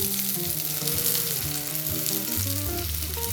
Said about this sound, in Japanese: ここでネギを焼いていきます。